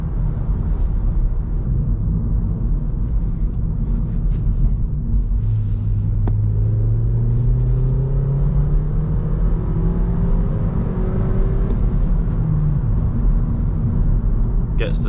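A BMW 1 Series F21 hatchback drives on rough, poor-surface roads, its engine droning low and steady up close with rising tones as it gathers speed, under continuous road rumble and occasional brief talk.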